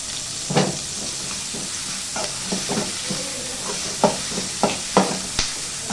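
Chopped onions sautéing in a pan for a bitter gourd tamarind curry, a constant close sizzle punctuated by about eight crisp clacks of a spoon stirring against the pan, with no voices.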